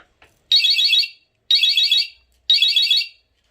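Electric scooter alarm system sounding after being armed, three loud, identical electronic warbling bursts of about half a second each, evenly spaced with short silences between, close and with no talking.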